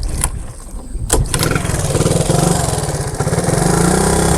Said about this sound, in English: Sitting for all those years, it starts and runs.